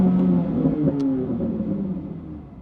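A Chevrolet Corvette Z06 sports car engine revs close and loud, a deep throaty roar rising in pitch and then easing off over a few seconds, with no voices.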